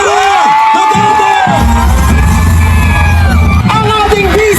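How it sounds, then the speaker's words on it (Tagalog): A large Philippine rally crowd erupts in loud cheering, whoops and yells with applause for Vice President Sara Duterte, while an amplified voice calls out over the din in bursts. "Nang mainit na palakpak at sigawan, Vice President Sara Duterte!"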